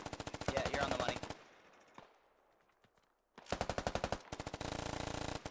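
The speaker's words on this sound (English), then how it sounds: "Got the medium machine gun putting down some suppressing fire." Medium machine gun suppressing fire in the video game Squad comes as loud, rapid sustained bursts, a pause with distant echoing shots, then more long bursts close by.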